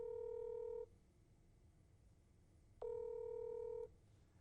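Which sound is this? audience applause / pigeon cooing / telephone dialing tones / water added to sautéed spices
telephone dialing tones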